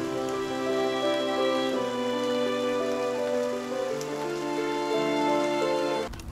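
Steady rain hisses in the background throughout, under louder mournful orchestral music.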